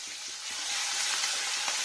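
Kashmiri chili powder and slit green chilies fry in oil over low heat, giving a steady, close, soft sizzling hiss with faint crackles and no voices.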